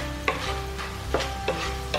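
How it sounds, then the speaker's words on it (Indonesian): Potato strips for crispy kering kentang fry in a pan as a spatula stirs them, with scraping strokes every half second or so over a continuous frying hiss. "Nah, ini di sini kita harus terus mengaduk seperti ini ya teman-teman."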